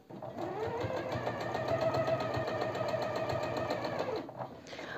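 Sewing machine stitching along the inner presser foot while edging a vest, a close, steady rapid whirring hum that runs evenly for several seconds before slowing at the end.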